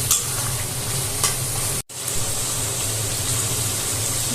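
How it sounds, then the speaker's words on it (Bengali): Water pours into a pan of spicy Bengali tatkini fish curry with vegetables and well-fried masala, giving a steady loud sizzle and hiss with stirring scrapes. A brief cut near the middle interrupts it, then the sizzling continues. "এখন আমি জল অ্যাড করব।"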